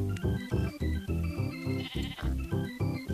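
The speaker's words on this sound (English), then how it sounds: "My first sheep." A Minecraft sheep bleats again and again in a fast, loud, rhythmic string of nasal calls, close and alone.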